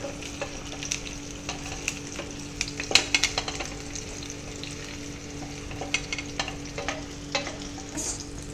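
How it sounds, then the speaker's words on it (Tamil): Curry leaves sputter and crackle in hot oil in a pan, a steady sizzle broken by sharp pops and the scrape of a stirring spoon, close and continuous while chicken curry is being cooked. "இப்போ நல்லா பொரிக்கும்."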